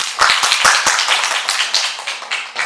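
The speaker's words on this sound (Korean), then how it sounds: "큰 박수로 맞아주시기 바랍니다." An audience at a Busan sustainable development council youth forum claps to welcome a speaker, a brisk scatter of close, sharp hand claps that thins out over a couple of seconds.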